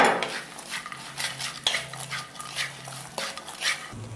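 Corn kernels and mashed salted egg yolk stir-fried in a wok with a spatula: irregular close scrapes and clanks of metal against the pan over a soft sizzle, no voices.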